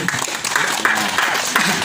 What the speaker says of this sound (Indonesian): Ya, tepuk tangan bagi kita semua.